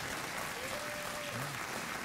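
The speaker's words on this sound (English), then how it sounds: "Thanks for a round of applause." Studio audience applause on a late-night TV talk show, a steady dense clapping wash filling the whole moment with no talk over it.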